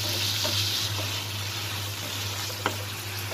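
Pieces of rui fish frying in a pan as they are turned over, a continuous sizzle with soft scraping and a brief clink near the end.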